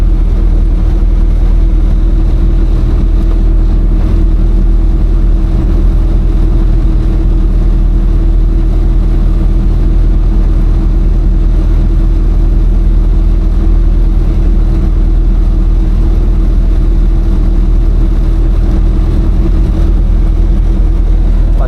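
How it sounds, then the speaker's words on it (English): A tractor pulling a trailer during an oat harvest approaches with a steady mid-pitched engine drone, continuous and fairly loud throughout with no change in rhythm. "now he's coming with the tractor"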